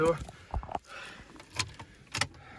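Keys jingle and clink briefly a few times in a dirt bike's ignition, close by, with small metallic rattles and soft knocks in between.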